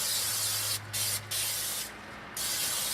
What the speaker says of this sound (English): I've just got some cheapo spray vegetable oil that I'm just going to spray all up in the cooker